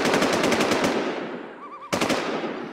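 Rapid automatic gunfire from the video game Infestation rattles loudly in quick bursts, pauses with a faint warbling tone, then fires another burst, with no talking.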